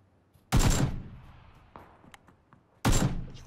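Two sharp, loud gunshots ring out about two seconds apart in the battle-royale video game PUBG, each with a short decaying tail and faint clicks in between.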